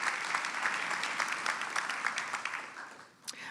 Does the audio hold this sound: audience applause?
yes